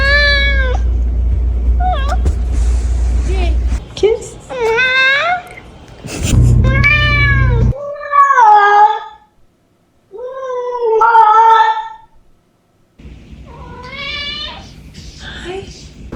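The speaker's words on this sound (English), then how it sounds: "so we got cat videos" A house cat lets out a string of distinct, drawn-out meows with pauses between them, close to the microphone, while a person's voice is heard briefly.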